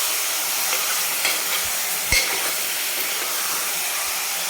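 Unmarinated mutton sautés over a high gas flame in a spiced tempering, a loud continuous hissing sizzle close by with a couple of faint knocks of a utensil.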